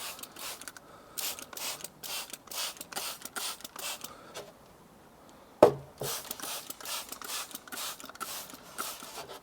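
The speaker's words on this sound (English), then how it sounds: "And then we'll just spray the inside." Repeated short hissing bursts from a spray bottle of disinfectant inside a beehive, in a quick irregular rhythm, close by, with a brief sharp knock partway through and no talking.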